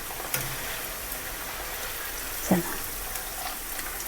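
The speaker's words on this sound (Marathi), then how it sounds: "आता आपण मक्याचे पोहे तळून घेऊया।" Corn poha frying in well-heated oil for a spicy poha chivda, a steady close hiss of sizzling oil with a couple of sharper pops.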